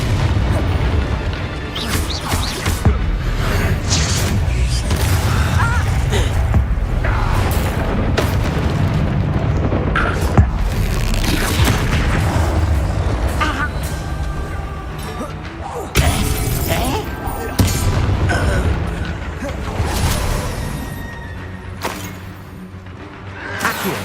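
Bombarda spells blow up repeatedly during a Hogwarts Legacy battle, producing a long chain of heavy booms, shattering crashes and rumbling blasts, loud and close. Voices and game chatter sit partly under the din.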